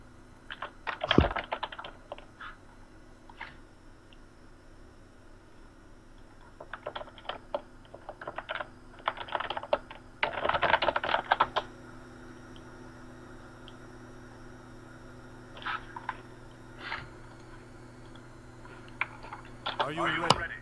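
A loud old computer keyboard clatters in irregular bursts of fast keystrokes, with pauses between flurries; a low hum sits beneath, and a voice is heard at points.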